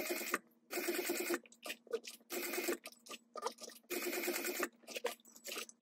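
A sewing machine stitches a tag onto a pouch in repeated whirring bursts of about half a second each, broken by short pauses and small clicks, close and fairly quiet.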